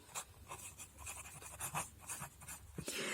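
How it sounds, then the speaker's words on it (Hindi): Marker or chalk strokes on a classroom board while writing out a geometry step, a rapid run of scratchy squeaks and taps close to the mic. "तो अभी जो समझा उसको यहां लिखते हैं"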